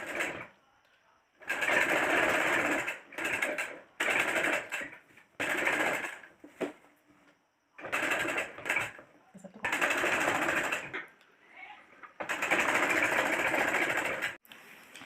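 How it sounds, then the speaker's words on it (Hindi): A sewing machine stitches the neck band of a kurta in repeated bursts of rapid mechanical whirring, each a few seconds long, separated by short pauses, close and loud. "तो चलिए इसमें सिलाई लगा लेते हैं।"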